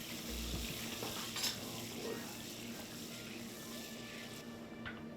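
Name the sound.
stirring margarine melting in a pan for shrimp scampi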